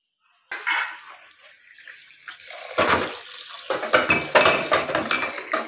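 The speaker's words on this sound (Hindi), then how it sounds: "अब चावल को धो देते हैं" Rice is washed by hand in a kitchen, with water splashing and sloshing in a metal pot, clinks of utensils and a running tap, close and fairly loud, with no speech.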